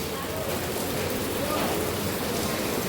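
Steady rain falling outside a home, a continuous hiss of drops at moderate loudness that runs the whole time with no clear talk.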